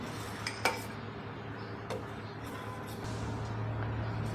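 A spoon stirs milk curdled with lemon juice in a metal pot, giving a few light clinks and scrapes over a low steady background hum.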